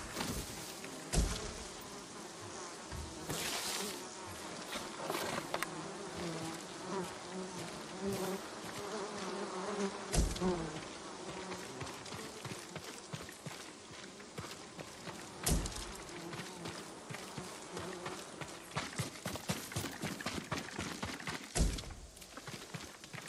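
Bees buzz steadily and closely in Ghost of Tsushima, a dense insect drone running throughout with occasional soft thumps and footstep-like knocks, no talking.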